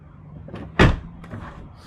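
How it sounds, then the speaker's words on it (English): A single solid car door clunk from a Toyota Supra Mk5, loud and close, followed by faint mechanical rustling. "let me open the door"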